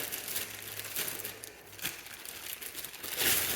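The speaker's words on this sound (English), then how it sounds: "Little plastic bag, don't need the plastic bag." Crinkling of a small plastic bag from a guitar pedal box being handled close by, in irregular rustling bursts that swell near the end.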